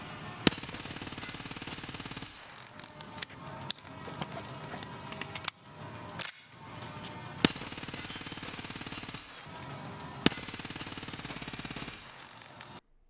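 A Vector 45 SMG in Escape From Tarkov fires long, very rapid bursts with short pauses between them, giving a dense, loud rattle of shots that ends with a few sharp clicks.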